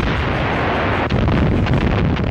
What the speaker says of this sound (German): Punkt 9 Uhr fällt der erste Schuss.